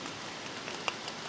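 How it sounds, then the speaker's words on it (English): Steady light rain patters on an umbrella and camera outdoors during a cold, wet October hunt, a soft continuous hiss with one faint close drop tap. "some of the rain is getting on the camera"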